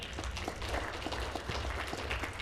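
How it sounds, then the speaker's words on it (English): Faint, steady applause from a seated audience at a memory-technique talk, an even patter of many hands clapping for a few seconds with no voices over it. "Round of applause for Corey."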